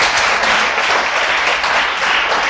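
A church congregation applauds loudly and close, with thick, energetic clapping in slightly pulsing waves across the short burst and no speech over it.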